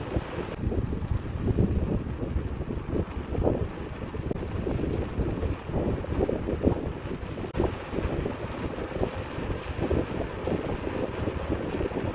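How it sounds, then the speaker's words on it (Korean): Strong headwind roars across the microphone while riding a mountain bike along a coastal road, a steady, loud buffeting rush with gusty swells and no talking. "맞바람이 불고 있습니다 지금."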